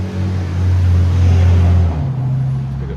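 A big pickup truck drives past close by, its loud low engine rumble swelling and holding for a couple of seconds before the pitch drops and it recedes.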